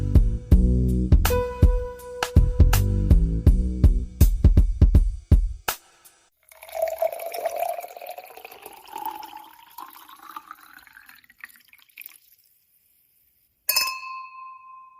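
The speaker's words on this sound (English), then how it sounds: "pour yourself a generous glass" Red wine poured into a glass: after a stretch of music, liquid gurgles and splashes into the glass for several seconds with a rising fill pitch, then a brief bright clink near the end.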